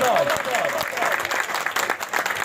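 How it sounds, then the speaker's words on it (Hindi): Audience applause at a pigeon fanciers' function in Faisalabad, a crowd clapping steadily at moderate volume while a voice talks over it for much of the moment. "आपने खड़े होकर उनके लिए तालियां बजानी है"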